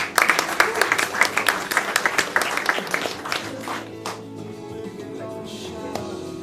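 Applause from the audience at a sports awards gala honoring the best athletes, dense rhythmic clapping at first that thins and fades out over several seconds.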